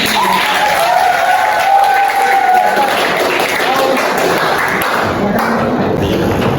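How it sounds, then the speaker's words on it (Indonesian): A school audience claps for creative students, a moderate round of applause mixed with voices and a call rising over it before it tapers off. "Tepuk tangan dulu ini"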